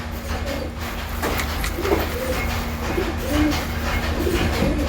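Pigeons coo softly in a breeding room, low murmuring calls repeating steadily over a constant background hum, with no talk.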